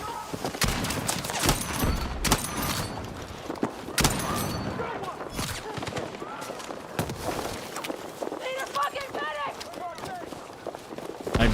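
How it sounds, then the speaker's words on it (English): Enemy footsteps run behind a wall in the shooter game Battlefield 6, as quick soft thuds mixed with game noise. A player talks over them. "More footsteps over the wall."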